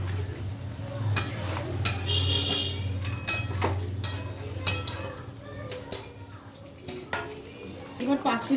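Pieces of chicken for lemon chicken are stirred in a pot with a splash of spiced water, giving a low steady bubbling hum under repeated spoon scrapes and clinks against the metal, close and fairly loud.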